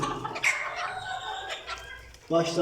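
A Capanoğlu rooster clucks and calls close by in short bursts, with a brief voice and background noise around it.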